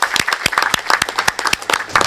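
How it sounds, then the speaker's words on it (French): Symposium attendees applaud the session speakers, a dense run of quick handclaps from a moderate-sized crowd, close and lively, with a faint voice underneath. "veuillez applaudir les orateurs de cette session."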